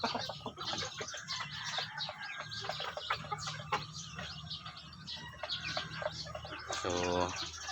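Two-month-old chicks cluck and peep outdoors near a breeding pen, soft, busy overlapping calls under someone talking, with a brief rattling noise near the end.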